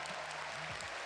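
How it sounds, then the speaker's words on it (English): Crowd noise fills the venue at the 2022 Pokemon World Championships Masters Division Grand Finals, a steady, dense wash of cheering and applause at moderate level, with faint voices rising briefly. "You can hear the crowd in the venue"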